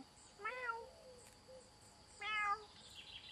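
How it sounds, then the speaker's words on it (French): A ginger cat meows twice outdoors at the edge of a wood, two short clear calls about two seconds apart, fairly faint and with no talk over them. "Eh oui, c'est bien un chat."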